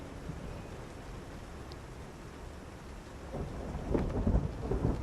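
Steady rain falls outdoors on an island, with a low thunder rumble swelling near the end, a dense wash of noise with no voices.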